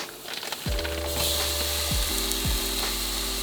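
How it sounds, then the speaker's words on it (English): Grass-fed beef sizzles loudly in a skillet, a dense continuous hiss close up, with a low steady hum and a few short tonal sweeps underneath. "The next thing we're gonna do is add our grass-fed beef to the same skillet."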